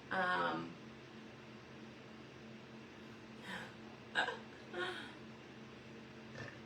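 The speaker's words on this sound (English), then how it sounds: "Oh, excuse me, I definitely just burped." A short, low burp lets out near the start during an indoor children's craft session making painted cutouts, followed by a quiet room with a few faint breathy sounds.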